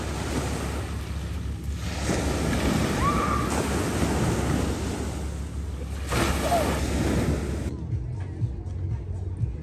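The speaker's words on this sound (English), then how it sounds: "We're on the beach." Surf breaking on a beach in the Hamptons, a steady broadband wash with louder swells near the start and again around six seconds, heavy wind buffeting the microphone, before the sound drops away abruptly near the end.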